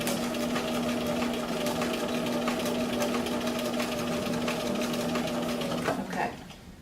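A sewing machine stitches across a drawn line on a sleeve placket, giving a steady, even mechanical hum that runs for several seconds and then stops abruptly near the end.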